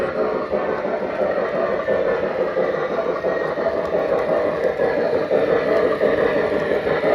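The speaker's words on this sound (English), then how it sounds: "This is the MTH Premier Mikado." An MTH Premier Erie USRA light Mikado model steam locomotive, Baldwin-built prototype, runs steadily along a layout, giving a continuous close rumble and rolling hum with faint rhythmic clicking throughout.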